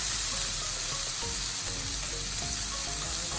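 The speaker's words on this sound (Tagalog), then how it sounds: "Igisa natin upo." Bottle gourd (upo) sautéing in hot oil in a pan, a continuous loud close sizzle with occasional stirring scrapes, and no talking.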